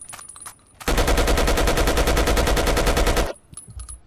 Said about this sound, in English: let's get back into the action. With this Zastava M84 machine gun